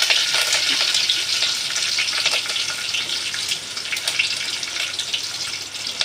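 Curry leaves dropped into hot oil while tempering garlic for a sweet toor dal varan, giving a steady, close, bright sizzle and crackle that carries evenly throughout with no talking.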